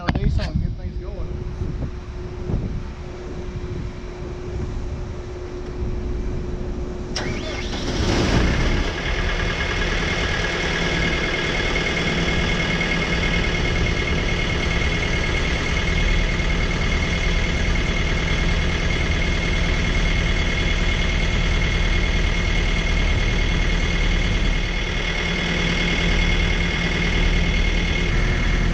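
A volumetric concrete truck's diesel engine runs in a steady, loud idle outdoors, with wind buffeting the microphone and a sharp knock partway through.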